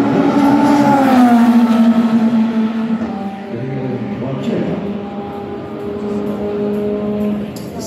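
Le Mans race car engine at the 24 Hours of Le Mans, a steady droning roar with shifting pitch running under continuous commentary throughout.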